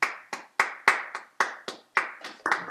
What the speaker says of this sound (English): I want to give a round of applause to all of our performers today.